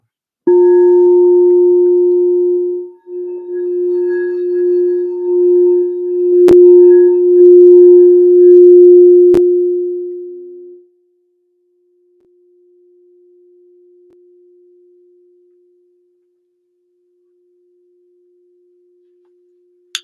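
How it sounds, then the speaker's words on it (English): A sound bowl rings out as one pure, steady tone that swells and wavers for about ten seconds, then fades to a faint lingering hum. A couple of sharp clicks break in, and nobody speaks. "I'm gonna end it out with the sound bowl"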